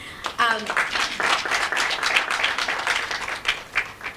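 An audience at a student panel discussion breaks into dense, sustained applause that fills the room, with a brief voice heard at the start.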